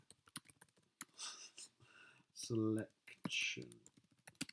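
Keys clatter on a computer keyboard in quick, light bursts of typing between spoken remarks, close and fairly quiet.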